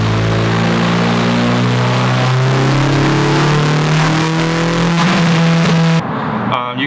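A Honda engine with Drag Cartel cams screams up through the revs on a dyno, its pitch climbing as VTEC kicks in, loud and close before cutting off abruptly near the end.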